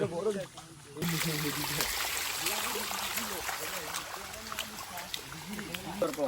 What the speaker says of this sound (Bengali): ওটা ওটা তো ঝর্ণা আছে